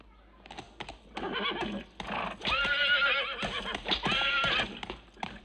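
A horse neighs loudly nearby, a long shrill whinny repeated twice, with hoof clatter and shuffling around it.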